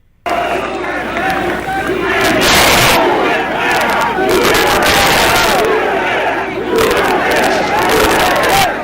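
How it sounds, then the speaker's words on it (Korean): A large, loud crowd chants and cheers USA at an outdoor political welcome event, rising into rhythmic shouted bursts and roaring waves that fill the whole stretch. "이런 시끄러운 함성, 굉장히 익사이팅한 분위기였습니다"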